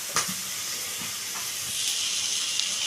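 Garlic and ginger paste fry in a pan for shahi egg korma, giving a close, steady sizzling hiss with a few soft stirring knocks.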